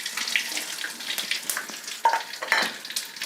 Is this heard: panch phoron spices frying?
yes